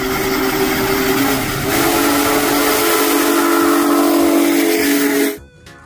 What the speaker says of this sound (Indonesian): Widih, lokomotif kereta api